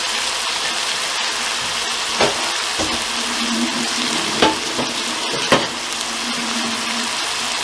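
Cold-rinsed noodles for an Asian-style spicy pork dish hit a hot pan, setting off a steady broad sizzle with a few sharp crackling bursts as they are stirred in. The sound is close and continuous, with no talking.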